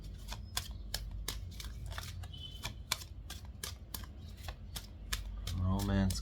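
Tarot cards are shuffled by hand in quick, crisp riffling flicks repeated steadily at close range, with a voice briefly heard toward the end.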